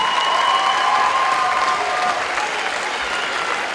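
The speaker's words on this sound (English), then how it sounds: "Let's have a big round of applause for our ladies and gentlemen." Audience applause after an amateur boxing bout at a charity boxing event, steady sustained clapping from a sizable crowd with faint cheering, filling the whole stretch and easing slightly toward the end.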